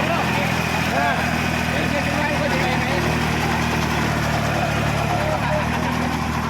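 A rice combine harvester's engine runs loudly and steadily at close range, with a constant mechanical drone and faint rattling throughout, but no clear rise in revs.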